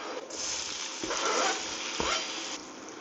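Onions hitting a hot pan after browned meat is removed, a steady loud sizzle and crackle of frying with a couple of sharp stir knocks, no voice over it.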